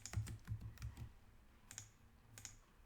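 Someone types a short word on a computer keyboard: a quick cluster of close, crisp keystrokes, then a pause and a couple of separate taps.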